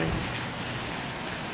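Steady rain hisses across the whole clip at Universal Studios, a dense, even wash of noise with no breaks, fairly close and constant.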